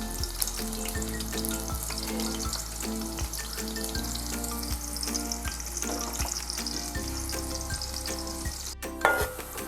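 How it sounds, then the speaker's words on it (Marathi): Onion frying in hot oil for a dry Bombay duck and potato curry gives a continuous close sizzle and crackle with occasional stirring knocks and a brief clatter near the end, with no voices. "तेल आपलं तापलंय, आता कांदा टाकते।"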